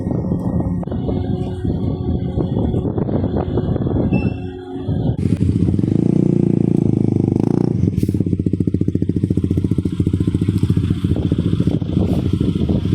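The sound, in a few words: motorcycles on a ship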